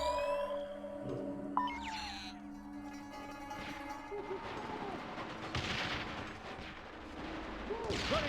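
Turret gunfire in Splinter Cell: Conviction, heavy bursts rising amid layered game noise and music, with scattered impacts and a faint voice nearby.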